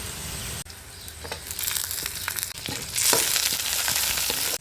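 Onions frying in a pan for star fruit chutney give a steady close sizzle that grows louder in the second half, with a few sharp clinks and scrapes.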